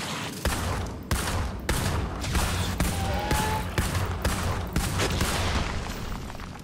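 Rapid bursts of gunfire in Red Faction: Armageddon crack out repeatedly over a steady background din, shots spaced in quick irregular volleys throughout.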